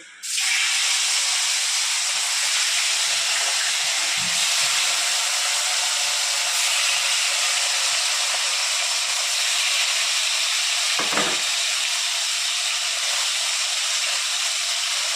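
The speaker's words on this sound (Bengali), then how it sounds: "এক এক করে আমি মাছগুলো ছেড়ে দেবো" Silver carp pieces dropped into hot oil in a wok, bursting into a loud, steady hiss and crackle that holds for the whole stretch, with a couple of brief knocks partway through and no speech.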